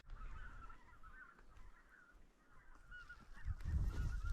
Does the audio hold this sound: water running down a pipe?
no